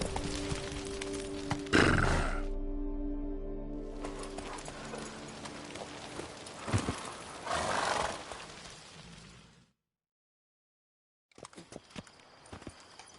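Roach the horse in The Witcher, with hooves and a loud whinny amid swelling game music and ambience, cutting to silence before a brief return of clattering sound.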